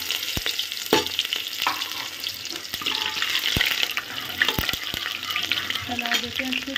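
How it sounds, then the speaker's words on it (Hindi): Finely chopped onion with whole cumin frying in hot oil, a continuous crackling sizzle punctuated by sharp spatula knocks and stirring scrapes, close and fairly loud with no speech. "गोल्डन होने तक हम प्याज को भून लेते हैं"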